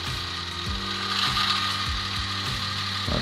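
An H0 scale model railway train starting off slowly on track during a track-cleaning test, giving a close mechanical whirring drone with rhythmic clicking from the wheels and gears, steady and fairly quiet with no talking.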